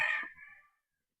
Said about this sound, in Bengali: মুরগিটা কি সুন্দর মোরগটা